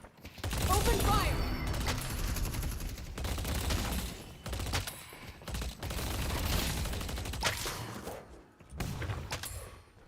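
Gunfire in the video game Deadlock comes in dense bursts of rapid shots and impacts through most of the stretch, loud and close, with short pauses between volleys and some voice mixed in.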